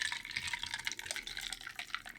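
A drink being stirred with a keycap puller: steady close liquid swishing with light, rapid clinks and splashes throughout.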